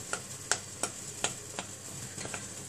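A spoon stirs melting chocolate in a pan for Easter nests, giving faint, evenly spaced scrapes and taps against a soft sizzling background.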